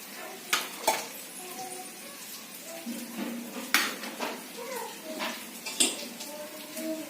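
Onion sautéing in a pan for Dal Batti, a soft sizzle broken by sharp metal taps and scrapes of a spoon against the pan, a few louder clinks standing out.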